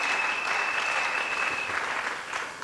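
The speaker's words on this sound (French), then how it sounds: "Est-ce qu'on peut acclamer très fort?" An audience applauds steadily throughout, a dense and fairly loud wash of clapping that fades slightly near the end, with no talk over it.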